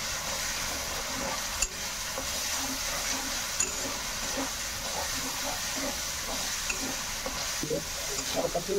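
Spice paste sizzles and is stirred in oil while cooking doi aloo, a continuous dense frying hiss with frequent scraping strokes and small spatters, close up and fairly loud throughout.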